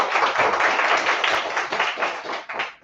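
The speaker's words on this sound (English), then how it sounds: "Let's give them a round of applause." An audience at an indoor event gives a round of applause, dense steady clapping that fills the room for a few seconds before thinning out.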